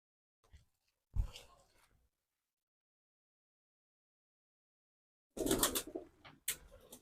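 Soft, low cooing from pigeons in short bursts separated by silence, fairly close and quiet.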